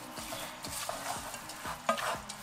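Couscous being stirred with sauce and water in a pan, a spoon scraping in regular strokes about every half second over a soft sizzle, close and fairly quiet.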